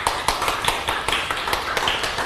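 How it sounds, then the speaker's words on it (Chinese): An audience at a Buddhist Diamond Sutra lecture claps in a steady, even rhythm of sharp hand claps that carries on throughout without pause. "鼓掌一下"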